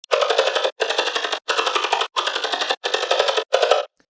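Percussive synthesizer sound using phase distortion, with a sine-wave carrier oscillator, repeated as six loud, evenly spaced bursts of buzzy tone with short gaps between them, alone.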